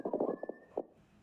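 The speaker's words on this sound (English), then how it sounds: "Here are the other Loons." Several loon calls, a few close, loud wavering cries with a thin sustained tone between them, fading out after the last call.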